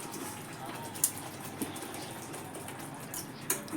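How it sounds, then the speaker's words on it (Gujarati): Water is poured into a pan of curry to make gravy for Kathiyawadi dhaba-style dum aloo, giving a steady, soft rushing splash that runs throughout with a couple of faint clinks. "અને હવે આપણે રસા માટે થોડુંક પાણી નાખશું"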